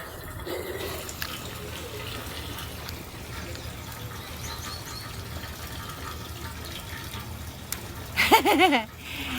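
Water runs steadily from a hose filling the tank of a Leopard 40 catamaran, a continuous faint flow with a louder splashing burst near the end.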